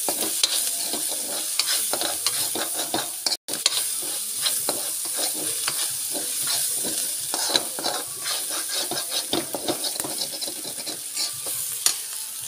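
Onions fry gently with turmeric, garam masala, red chilli and dried coriander for carrot pickle, a constant close sizzle with frequent scraping and clicking stir strokes throughout, no voices.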